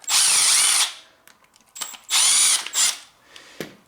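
Power drill backing two Phillips screws out of the motor on a Peg Perego 24 volt RZR toy ride-on: two loud, close whirring bursts with brief ratcheting and handling noises between them.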